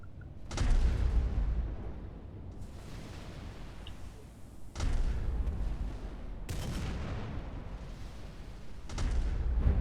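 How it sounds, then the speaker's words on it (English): Battleship Musashi's big guns firing in the Roblox naval game Naval 1945, several heavy booming blasts a few seconds apart, each followed by a long rumbling decay. "the Musashi is known to have a new gun sound"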